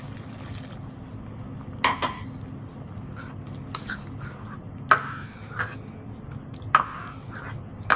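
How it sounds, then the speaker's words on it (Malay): A glass of hot water is poured into thick coconut milk for a beef tripe masak lemak cili api stew, giving a low steady liquid wash with a few sharp clinks of glass against the pot. "saya akan tambah segelas air panas"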